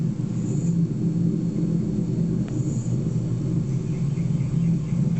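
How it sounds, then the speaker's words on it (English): Space Shuttle Endeavour's three main engines roar at full throttle during ascent from Kennedy Space Center, a steady, dense low rumble with distant crackling texture, unbroken and heard from far off. "Endeavour's three main engines now back at full throttle, all three engines in good shape."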